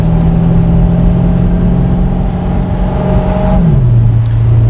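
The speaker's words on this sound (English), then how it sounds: "now I'm actually going to hop inside this 2020 Corvette and take you guys for a ride with me" A 2020 C8 Corvette in track mode with manual shifting, its engine droning steadily and loudly from inside the cabin as it accelerates, then the pitch drops with a gear change near the end.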